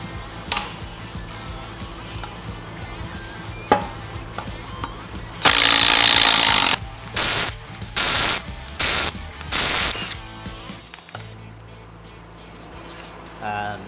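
A ratchet wrench breaks loose Loctite-coated brake rotor bolts on a Harley Lowrider ST motorcycle: sharp metallic cracks, then a run of loud, rapid clicking ratchet bursts in separate spells, with quieter workshop handling between.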